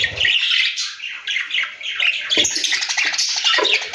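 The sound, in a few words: budgerigars squawking in an aviary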